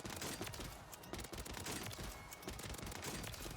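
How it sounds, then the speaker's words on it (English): Rapid tap-fired gunshots from a weapon in the video game Warzone, a dense run of sharp cracks close up, with no talking in between. "we can actually tap fire this gun using that rapid ability"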